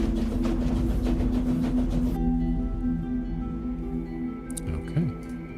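A train rumbles along in the video game The Bookwalker, a loud, continuous low mechanical drone with steady rail noise that drops to a quieter hum partway through and ends with a brief squeal.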